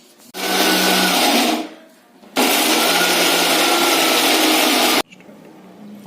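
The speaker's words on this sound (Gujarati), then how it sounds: "અને મિક્સરમાં આપણે દરદરું ક્રશ કરી લેવાનું છે." A mixer grinder coarsely crushes fried chickpea-flour dumplings in two loud, steady bursts of whirring, the first about a second and a half long, then a brief pause before a longer run that cuts off abruptly.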